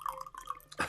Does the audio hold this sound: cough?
no